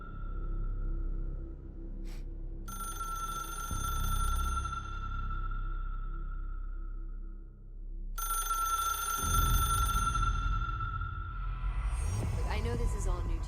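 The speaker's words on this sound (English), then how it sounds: "I don't want to pick up that phone, but I gotta" A video game telephone rings in two long electronic bursts with a pause between them, then cuts off as a low background hum and speech take over near the end.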